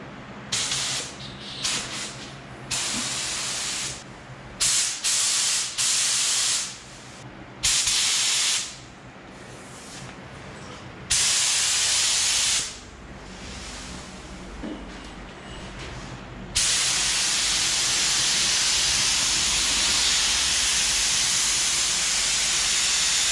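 Paint spray gun hissing as it lays coats on the bodywork of a 2012 Toyota Camry: a series of short bursts, then one long unbroken spray, loud and close.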